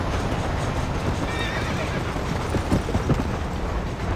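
In Red Dead Redemption, a horse whinnies over the steady clip-clop of hooves as it is ridden along, with the gait and neighing close and clear against a low outdoor backdrop.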